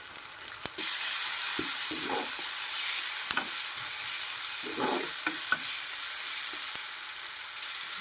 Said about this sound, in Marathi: पण आता पुन्हा तरी पण ऑइलमध्ये परतून घेत आहे मी